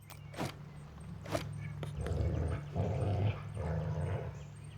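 Rabbit dogs in the game Crown Gambit: low rumbling growls and snarls swelling in bursts after a couple of sharp footfall-like thumps, fairly close and loud.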